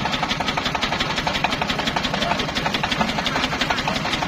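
A modified hand tractor engine runs on farmland, its rapid, even mechanical chugging loud and close throughout, with a rattling rhythmic pulse.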